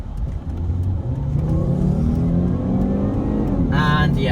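Volvo V70 with a 2.5-litre turbocharged five-cylinder engine accelerating hard up a slip road in rush-hour traffic, its engine note climbing steadily and loudly, heard from inside the car.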